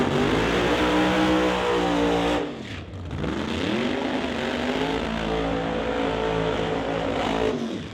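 Supercharged 1957 Chevy Bel Air drag car roaring loudly and continuously near at hand, engine note dipping briefly midway before climbing again at full throttle.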